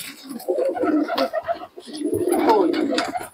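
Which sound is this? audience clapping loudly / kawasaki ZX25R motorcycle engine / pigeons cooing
pigeons cooing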